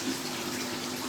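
Water pours steadily from a pipe into a koi pool indoors, a constant, fairly quiet rushing with no voices.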